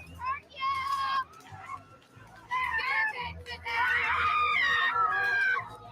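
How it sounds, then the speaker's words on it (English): Several people scream and yell loudly in a rage-release ritual, voices rising in overlapping, strained bursts that swell into a sustained group scream, with low thuds from large sticks beaten on the ground underneath. "Participants scream and sounds beat large sticks on the ground."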